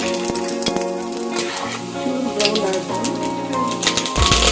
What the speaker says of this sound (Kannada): ಸಾಸಿವೆ ಚಟಪಟ ಅಂದ್ಮೇಲೆ